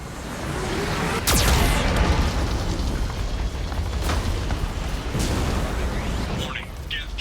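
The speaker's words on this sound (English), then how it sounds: "Warning, Geth cannon is locking on our location." Geth cannon fire in the Mass Effect 2 sci-fi game produces a dense, roaring wash of blasts and rumbling impacts, with a sharp crack early on and a steady loud din throughout.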